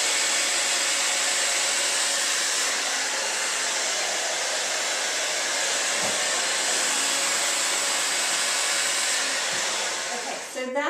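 A hair dryer on its cool shot setting runs as a steady, loud broadband blow with no break through the whole stretch, used with a round brush while blow-drying hair.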